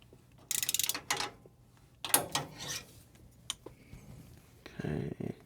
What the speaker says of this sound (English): You want to ratchet?